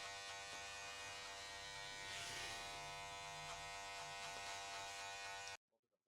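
Electric hair clippers with the lever closed hum steadily while removing the bottom guideline of a skin fade, a close, continuous buzz that stops abruptly near the end, leaving near silence.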